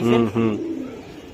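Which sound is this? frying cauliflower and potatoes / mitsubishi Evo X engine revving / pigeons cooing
pigeons cooing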